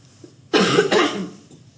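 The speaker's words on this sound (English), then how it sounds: "getting into a fit made me have to cough" A single close, loud cough with two quick bursts, in an otherwise quiet room.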